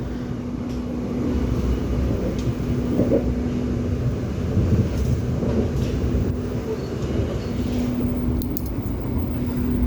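Riding aboard the Argo Parahyangan train (KA 52A) as it runs straight through Purwakarta station without stopping; a steady, rumbling interior roar with a constant hum and faint rattles persists throughout.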